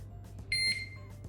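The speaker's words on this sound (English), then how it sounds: "Another beep means the main panel pairing process is done." A smart 4G LTE WiFi alarm system's main panel gives a single short, bright electronic beep to confirm pairing. It sounds alone over a low, steady room hum.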